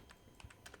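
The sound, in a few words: typing on a computer keyboard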